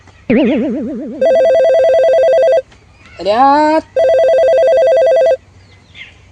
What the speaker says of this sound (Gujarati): ફોન આવે છે કોકનો નંબર નવો લાગે છે